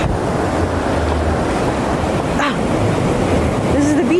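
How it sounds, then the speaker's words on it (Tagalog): Large Indian Ocean waves break on a beach at Mirissa, Sri Lanka, a loud continuous roar of surf with wind buffeting the microphone and a brief voice partway through. "The waves are really big."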